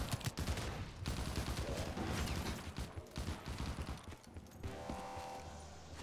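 Rapid, dense bursts of rifle fire from a Scar in a modded Call of Duty Black Ops 3 zombies game, loud and close, with dull impact thuds and brief gaps before a mechanical clatter near the end.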